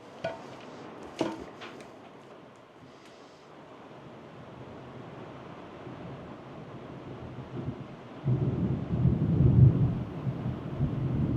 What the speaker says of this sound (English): It's raining pretty hard, but it's about to rain even harder.